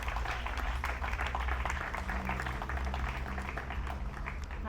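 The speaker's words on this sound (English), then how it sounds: "Give her a round of applause." Sustained applause from an outdoor audience at a statue unveiling ceremony on Nevis, a steady dense patter of many hands clapping throughout with no talk over it.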